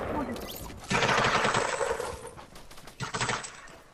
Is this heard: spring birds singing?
no